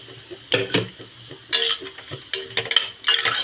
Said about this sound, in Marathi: आता आपल्याला हा चांगला गोल्डन होईपर्यंत आपल्याला हे सगळं भाजून घ्यायचं आहे तोपर्यंत मी कांदा भाजत आहे